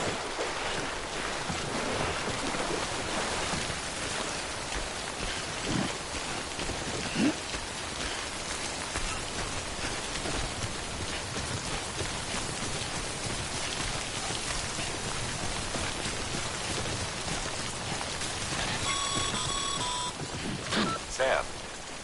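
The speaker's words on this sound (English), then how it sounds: "Don't stay out in the rain any longer than you have to." Steady rain pours in the video game Death Stranding, a dense continuous hiss of drops on surfaces with no pauses, loud and close throughout.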